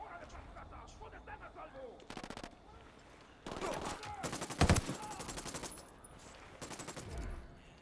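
Automatic weapons fire in Tom Clancy's Ghost Recon Wildlands comes in rapid machine-gun bursts, with one sharp, heavier shot near the middle and quieter sporadic shots around it, mixed with game sounds.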